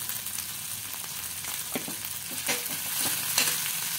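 Cumin and coriander powder frying in oil with ginger and garlic, a steady close sizzle with scattered crackles and a few louder spatters toward the end, no voices.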